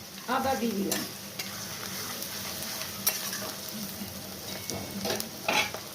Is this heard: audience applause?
no